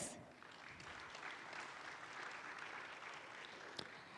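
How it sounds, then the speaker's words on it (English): An audience at a plenary panel on faith-based philanthropy applauds the panelists, a steady dense clapping that holds evenly for several seconds from a roomful of people, with no voices over it. "join me in a round of applause for my panelists"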